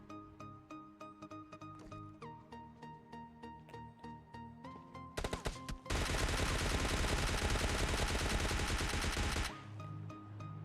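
Gunfire in the PUBG Mobile Lite video game: a run of rapid single shots over game music, then a sustained loud burst of automatic fire for several seconds before easing off.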